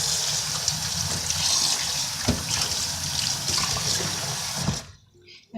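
Rainbow chard is rinsed under a running kitchen tap, a steady close splash of water that shifts as the leaves move, then stops abruptly near the end.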